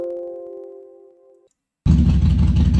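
A car engine idle loop plays back in a game audio editor: a steady hum fades out, a short silence follows, then a loud, dense, rumbling idle starts abruptly and keeps going.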